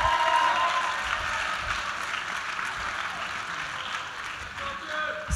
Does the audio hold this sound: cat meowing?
no